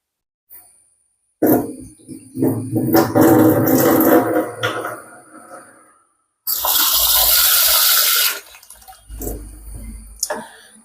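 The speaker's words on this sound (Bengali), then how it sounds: "চালটা দুবার ধুয়ে নেব, কারণ একবারে সেরকম ভাবে হয়তো ক্লিন হয়ে ধোয়া হয় না" Thin-grain rice being rinsed in a pot of running water in a home kitchen, with loud splashing and pouring in two bursts separated by a short pause, and no talking.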